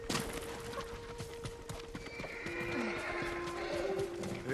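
Horses in the video game Ghost of Tsushima: steady clip-clop of hooves on the ground, then a drawn-out neigh and whinnying over a low ambient bed, fairly close.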